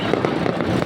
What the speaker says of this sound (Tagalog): Putukan lang sa labas.